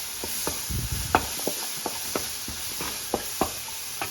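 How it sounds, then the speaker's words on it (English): Seasoned beef and casserole ingredients fry in a pan, a constant bright sizzle broken by repeated scraping and stirring knocks from a utensil at an uneven rhythm. "I'm going to fry this for like 30 more seconds"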